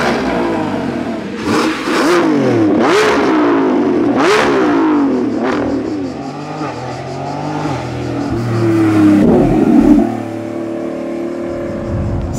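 A Lamborghini Revuelto, a 1015-horsepower V12 hybrid, accelerates on the road, its engine note climbing through several loud revving surges and gear changes, heard from inside the car with someone speaking French over it.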